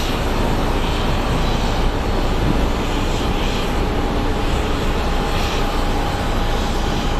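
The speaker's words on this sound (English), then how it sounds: "And now we have this plane pushing back." An airliner pushing back at Phoenix Sky Harbor airport gives off a steady, loud engine roar and broadband rumble with a faint whine, continuous and unbroken throughout.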